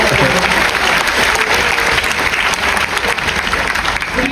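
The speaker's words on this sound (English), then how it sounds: "Ladies and gentlemen, a massive round of applause for John as he..." Loud, dense applause from a large audience at an onboard cruise-ship show, sustained and even throughout, with faint crowd noise mixed in.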